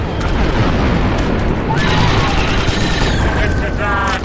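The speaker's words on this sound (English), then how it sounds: "The charge is set and ready to detonate." A demolition charge detonates in the Star Wars Republic Commando video game as a loud, dense blast that fills the whole span, with ringing debris and effects trailing off near the end.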